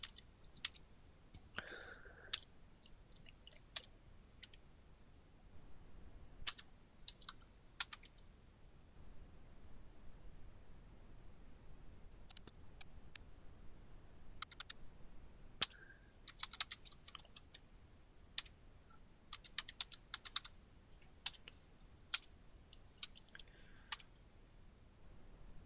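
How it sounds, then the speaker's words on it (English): A computer keyboard clicks as a command is typed, with sparse, irregular keystrokes and short clusters of taps over a quiet, faint background, no talking. "So let's go ahead and type that in."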